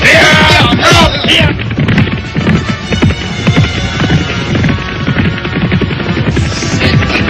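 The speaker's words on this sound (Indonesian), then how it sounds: "Awas, dia mempunyai kuda yang cukup tangguh." A horse galloping, fast rhythmic clip-clop of hooves up close and loud, with a throbbing rumble beneath and a short whinny-like cry near the start.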